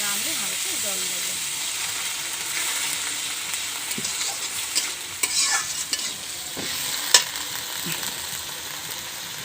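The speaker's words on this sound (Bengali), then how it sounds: "এখন বন্ধুরা আমি হালকা জল দেব।" Chopped tomatoes fry in a pan as a little water goes in, making a continuous soft sizzle and hiss with spoon stirring scrapes and a few sharper clacks, while a voice speaks briefly at the start.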